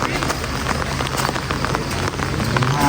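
Steady, dense rain patters on a surface at a cattle market in Sakon Nakhon, Thailand, a continuous hiss of drops that stays loud and even throughout.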